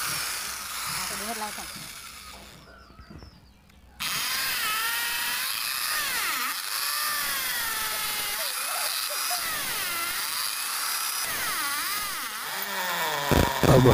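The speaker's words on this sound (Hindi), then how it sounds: "अब हमें स्टैंड को लगाने के लिए 4 छेद करना है ड्रिल मशीन चलाकर।" Electric drill boring four holes to mount a satellite dish stand during a Tata Sky dish installation, a steady loud whine running for about ten seconds after a brief pause, with changing pitch as the bit cuts.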